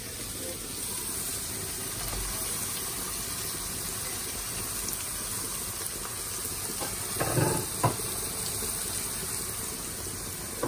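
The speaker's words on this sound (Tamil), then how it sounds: "இப்போ நம்ம இதில் தக்காளியை போட்டு வதக்கிடுவோம்." Tomatoes sizzle and sauté in a pan for chicken gravy, a steady hiss throughout, with a brief louder stir or scrape near the end.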